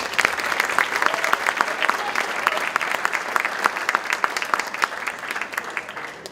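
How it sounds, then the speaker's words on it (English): An audience at a Saudi Night cultural event applauds performers after a dance, with dense, steady clapping from a sizeable crowd that stays loud and unbroken throughout. "I think they deserve a second round of applause."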